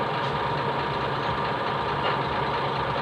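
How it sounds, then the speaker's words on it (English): A big truck idling just outside a door, its engine a steady low rumble with a faint knocking texture, constant and close with no voices. "look at the big truck right outside my door here."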